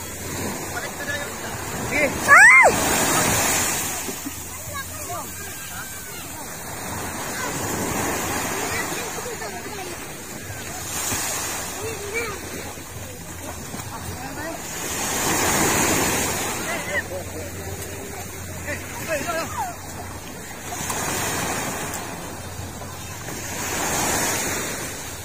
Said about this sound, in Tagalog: lumaki yung alon!